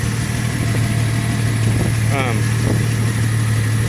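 A 1987 Jeep Cherokee with the 4.0 Renix engine and an 18-inch Cherry Bomb muffler idles steadily with a constant low hum, while a person speaks briefly over it.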